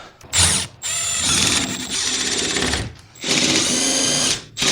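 A power drill drives larger fasteners into a Carson enclosed trailer during a torsion axle replacement, whirring in three long, loud bursts separated by brief pauses.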